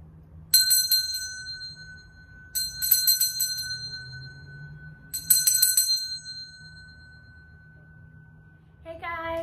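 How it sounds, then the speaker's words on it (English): A bell rings three times at a steady, spaced rhythm, each strike a bright, loud ding with a long shimmering ring-out over a low steady hum, before a short burst of other sound at the end. "if you don't want the bell to shock you, you might want to turn the volume down just a little bit."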